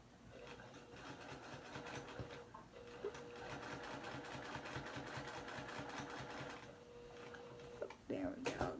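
A sewing machine stitches quilt binding in a steady fast whirring run for most of the clip, close and fairly quiet, with brief clicks and a pause near the end.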